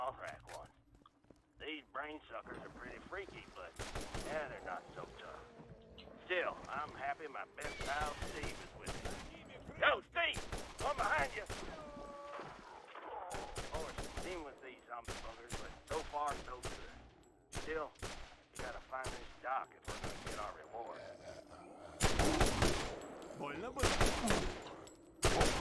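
Bursts of rapid gunfire crackle in loud volleys over a busy Borderlands game soundscape, with someone talking throughout and a heavy barrage near the end.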